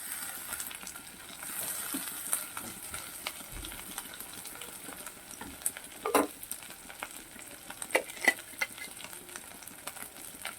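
Ginger and garlic stalks fry together in a pan, with a steady soft sizzle and crackle plus a few sharper pops and stirring clicks throughout.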